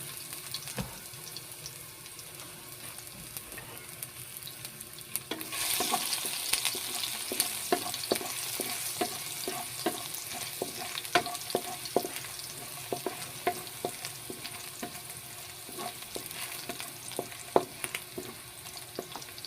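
Garlic frying in a pan for Bicol express, soft sizzling that swells into a louder hiss partway through, under steady scraping and clinking as a utensil stirs it, heard close with no voices.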